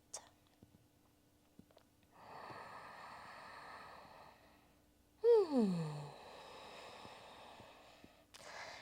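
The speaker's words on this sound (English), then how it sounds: "Last 2 super deep breaths all the way in and out." Two long, deep breaths in and out during an exercise session, the first a soft hiss and the second a louder, breathy exhale, close and quiet with short pauses around them.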